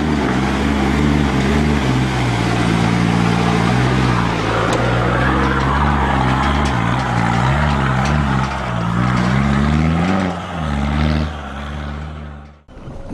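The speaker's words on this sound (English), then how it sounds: "You can see how my vehicle bounces around so much with this stiff suspension." A 4WD with stiff suspension climbing a steep, loose high-country track, its loud engine droning close and steady with shifting revs, then dipping sharply near the end.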